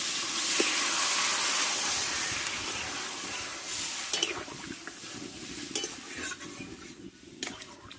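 Water poured into a pan of cooking mung dal with pumpkin, heard as a loud hiss and rush of steam that fades, followed by several clinks of a utensil against the pan.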